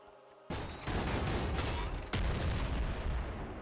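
Heavy revolver gunfire in the Nuclear Throne video game, a burst of loud sharp shots starting abruptly after a moment of quieter game music, with another sharp shot partway through.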